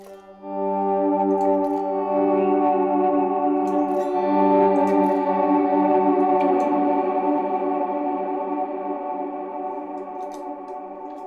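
Ambient electric guitar through a high swell and long decay effect, with little pick attack: a sustained, shimmering chord that blooms in slowly, holds with rich overtones and reverb, then gradually fades, with a few faint high tinkles on top.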